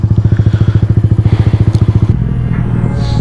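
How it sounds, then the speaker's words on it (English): A Honda Grom motorcycle engine cold-starts with a rapid, loud thumping idle for about two seconds, then settles into a smoother, steadier rumble with faint clatter. "That cold start, baby. Sounds so good."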